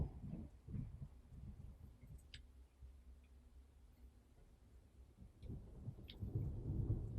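Rumbling thunder rolls low and steady through a rainstorm in the video game World's Dawn, swelling at the start and again toward the end, with faint ticks of rain above.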